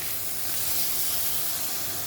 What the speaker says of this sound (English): Fried our lamb mince